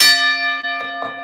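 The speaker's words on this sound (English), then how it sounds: "Let me ring a bell." A single bell strike rings out loudly and close, its bright metallic tone sustaining and slowly decaying, with faint bumps of handling noise under the ringing.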